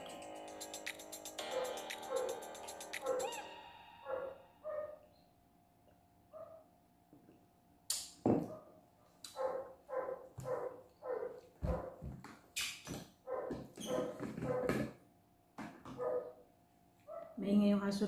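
A neighbour's dog barks repeatedly next door, sharp yips and bow-wows in irregular bursts at moderate distance, faint against a quiet kitchen, with a person talking before the barking starts.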